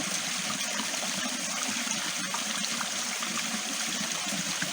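Water flows steadily through an underground creek channel inside a cave, a continuous broadband rushing and trickling wash that stays fairly loud and even from start to finish, with no voices.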